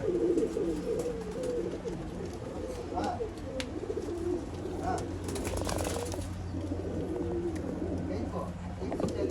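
Pigeons for sale in Bangalore coo in soft, low repeated phrases over steady background noise, with a person talking nearby and a brief flutter.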